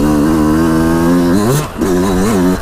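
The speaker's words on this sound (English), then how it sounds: "the RPMs of the bike are really eager to jump super high and about loop me out" A Yamaha YZ125 two-stroke dirt bike fitted with a YZ125X CDI box revs loudly up close, climbing sharply in pitch, dropping briefly, then surging again in a second rising rev.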